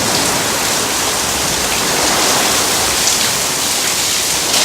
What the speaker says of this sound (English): That's really pouring right now.